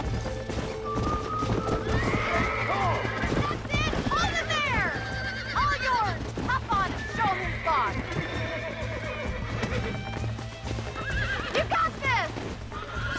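Horses in Red Dead Redemption whinny repeatedly and clop along on hooves at close range, the neighs rising and falling in several bursts over a steady game background with a low hum.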